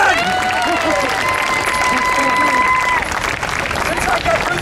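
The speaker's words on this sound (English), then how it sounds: "One more round of applause for Kevin!" A street crowd at an Australian fringe show applauds a volunteer, continuous clapping and cheering with a performer's amplified voice over it and tonal whistles or squeals early on, loud and close.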